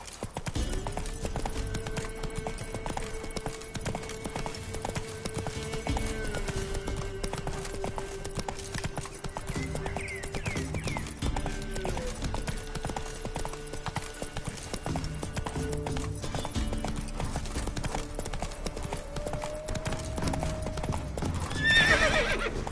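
Hooves of Roach, the horse in The Witcher 3, drum steadily in a fast galloping rhythm over game music, with a whinny near the end and no voices.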